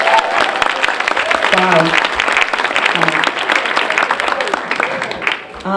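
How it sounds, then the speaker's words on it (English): Loud, sustained applause from an audience at an annual community celebration day, dense clapping with scattered cheers and voices throughout, a brief spoken exclamation near the start. "Can we give them another round of applause?"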